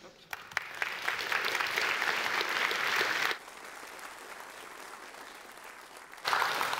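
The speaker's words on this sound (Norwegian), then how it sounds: "kjekt at dere klapper på forhånd" A lecture audience at Arendalsuka 2016 claps loudly for about three seconds, then the applause drops to a softer patter before swelling again near the end.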